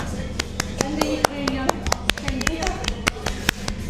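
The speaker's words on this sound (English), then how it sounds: "And the applause, of course." Scattered, uneven clapping from a small group after a Scottish dancing performance on a live coffee stream, sharp individual claps close by with talking underneath.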